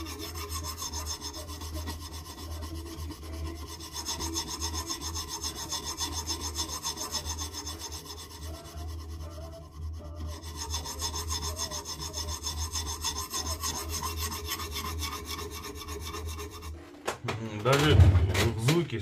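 A knife scrapes back and forth over an unevenly worn abrasive sharpening stone of a Profil K03 sharpening system in a continuous rasping rhythm, pausing briefly midway, then ending with a dull knock.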